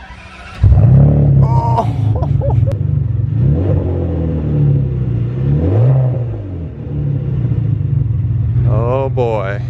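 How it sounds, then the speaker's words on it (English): A Ferrari 575M V12 with Tubi exhaust cranks and catches, then settles into a deep steady idle with a few revs rising and falling; a brief exclamation is heard. "First start in 3, 2, 1."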